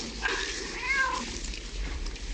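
A cat meows a few times in drawn-out, wavering cries over a steady low background hum, with no talking.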